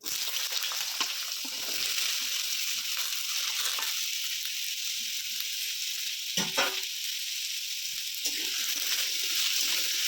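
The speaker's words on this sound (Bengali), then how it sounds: "তেল গরম হয়ে গেছে আলু ভেজে নিচ্ছি" Potatoes frying in hot oil in a pan for an ash gourd curry give a loud, steady close-up sizzle that runs throughout, broken briefly near the middle by a quick stir or scrape.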